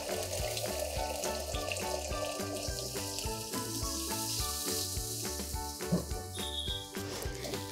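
A cup of water is poured into sizzling Aloo Manchurian sauce made with tomato ketchup and soy sauce, giving a steady, close hiss and splash that holds for several seconds over a background of harmonic music.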